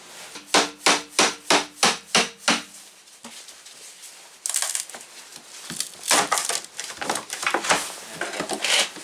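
A wooden top plate laid over fiberglass being pried and ripped up: a fast run of about eight loud rhythmic knocks, then a burst of cracking and splintering with scraping and creaks, close by.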